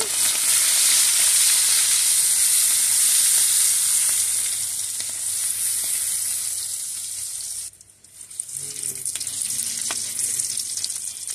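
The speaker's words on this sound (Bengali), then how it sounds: "এইবার চিংড়ি মাছগুলো নেড়ে চেড়ে ভালো করে ভেজে নেব।" Shrimp sizzle loudly in a pan of oil, a dense continuous frying hiss with occasional scraping as they are stirred. It dips briefly, then resumes close up.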